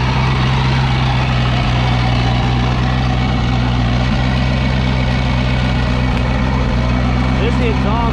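A V8-powered jet ski engine idling while connected to a hose out of the water, a loud, steady low rumble with a constant drone and no pauses.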